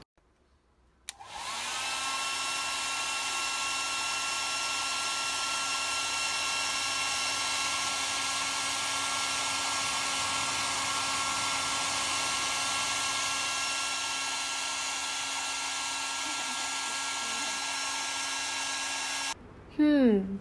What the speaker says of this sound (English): The airflow from the hairdryer pushes the ping pong ball upwards until the upward force equals to the force of gravity pushing down on it.